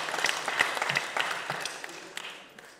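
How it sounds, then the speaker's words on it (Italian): Audience applause at an Italian cultural foundation event, a dense spread of many hands clapping that stays steady and fairly loud, then gradually thins and fades toward the end. "Facciamo un applauso per la loro presenza"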